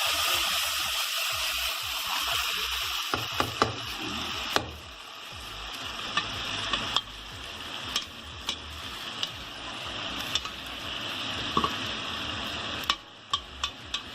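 A ground tomato mixture with chillies frying in a pan, giving a steady sizzle broken by sharp clinks of a spoon stirring against the metal.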